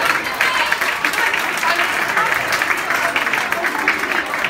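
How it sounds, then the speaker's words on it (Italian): Applause for Ferdinando, a player walking on at a charity football match in Pescara, steady and fairly loud clapping that runs unbroken for the few seconds, with voices mixed in under it. "vai, l'applauso, Ferdinando"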